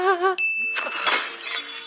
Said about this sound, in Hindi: ये फोन कांच फाड़ के निकल गया